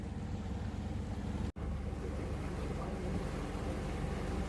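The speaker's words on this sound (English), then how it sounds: "we've got just a few knots of wind on the beam, so we are still motoring" Sailboat motoring under engine power on the Pamlico with light wind on the beam, a steady low engine rumble mixed with wind and water noise, briefly cut off by a sharp gap, no talking.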